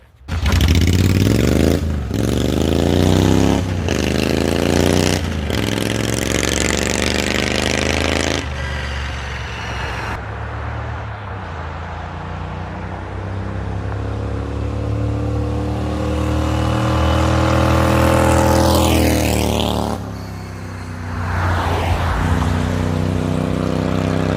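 Hot rod tractor engine driving up a road, loud roaring engine with rising and falling revs as it shifts through gears, a brief lull midway, then revving again as it passes.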